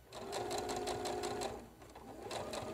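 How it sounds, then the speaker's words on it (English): A sewing machine top stitching close to the piping along the top of a pocket, running in a steady rapid close whir for over a second, pausing briefly, then starting again, with no voices. "Now we're going to top stitch really close to the piping on the right side."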